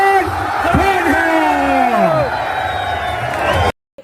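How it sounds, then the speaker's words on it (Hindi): At a night political rally for Imran Khan in Pakistan, a large crowd cheers and shouts loudly, with voices rising and falling over a continuous roar before the sound cuts off abruptly. "इस भीड़ को आपने देखा"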